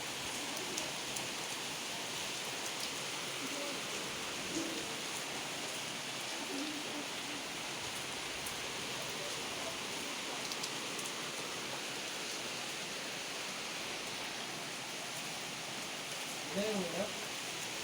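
Heavy rain falls steadily after a stormy day, a continuous even hiss throughout with faint voices and a few brief tonal sounds near the end.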